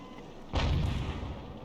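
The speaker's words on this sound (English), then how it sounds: "he's firing at us, but he's actually hitting the wreck" A single loud boom of an enemy tank's main gun firing in a tank video game, sharp onset followed by a rumbling decay, with no talk.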